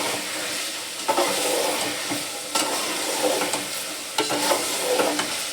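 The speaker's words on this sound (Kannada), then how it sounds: "ಇವಾಗ ಇನ್ನೊಂದು 2 ನಿಮಿಷ ಫ್ರೈ ಮಾಡಿ ಇನ್ನೂ ಚೆನ್ನಾಗಿ ಸ್ಮೆಲ್ ಬರುತ್ತೆ" Broiler chicken with ginger garlic paste fries in a pan, a steady loud sizzle throughout with a few louder bursts of stirring scrapes, no voices.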